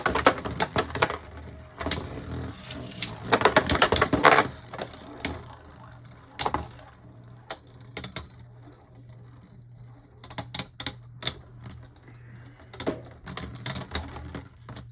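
Beyblade Burst tops ripped from a launcher into a plastic stadium, a burst of ratcheting whir followed by clattering, scraping clicks and sharp collisions as the spinning tops battle, close and fairly loud, with quieter gaps between hits.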